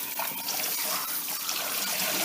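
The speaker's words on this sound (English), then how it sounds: "I'm giving them once rinse over first with just water" Tap water runs steadily over raw Cornish hens as they are rinsed in a sink, a close, continuous hiss and splash with no pauses.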